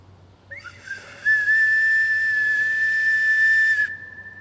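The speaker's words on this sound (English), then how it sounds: "they're like flutes. They're called ocarinas, and they're like very simple," A simple, primitive ocarina plays one long, clear sustained note after a short rising start, steady and close for about two and a half seconds, then stops.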